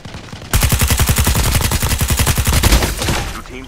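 Hades light machine gun in Call of Duty Mobile firing one long sustained automatic burst, rapid evenly spaced loud shots beginning abruptly after a brief quiet moment and tapering off near the end.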